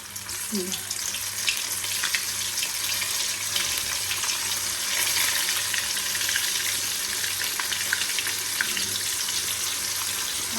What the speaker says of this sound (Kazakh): Ал енді бісміллә деп қуыруды бастаймыз.